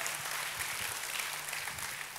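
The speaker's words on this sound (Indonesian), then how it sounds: "Tepuk tangannya yang paling meriah buat Tuhan kita." A congregation applauds during a church worship service, giving brisk, dense clapping that carries steadily for about two seconds at a modest, somewhat distant level.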